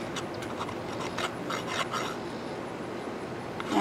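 Steady, close scraping and rasping as a hive tool scrapes burr comb from the inside of a wooden beehive box during hive maintenance, with a continuous gritty texture and small rhythmic strokes throughout, no talking.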